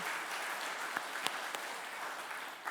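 Faint, distant applause from a congregation at a church afternoon service, a steady wash of clapping with a few sharper claps standing out.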